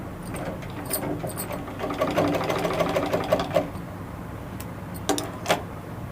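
A sewing machine stitching colored thread through cloth during a tailoring lesson, running in steady bursts of fast mechanical clatter with brief pauses and a few sharp clicks near the end.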